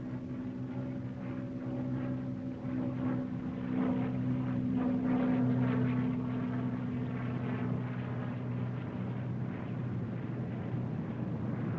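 A WWII P-51 Mustang fighter gliding in to land, its engine a steady low droning hum with a faint rattling texture, constant and moderately loud throughout with no speech.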